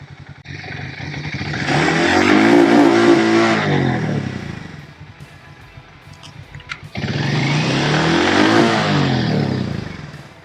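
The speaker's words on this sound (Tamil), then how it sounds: "ஸோ இது ஒரு க்ரூசர் டைப் சவுண்டுன்றனால எந்த அளவுக்கு போகுதுன்னு பாருங்கள்." 440cc cruiser motorcycle engine, Hero Mavrick 440 or Harley X440, revved up in two loud, swelling bursts separated by a dip back toward idle, close by with no talk.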